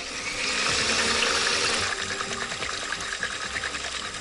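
A glass of water pours into a Brazilian coconut dessert mix made with butter, coconut powder and vanilla, a close, steady rushing splash that runs several seconds with no talk.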